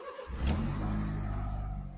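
A Honda City with an automatic transmission and erratic idle fires up and settles into a steady, close engine hum with a brief rev near the start, running alone without talk.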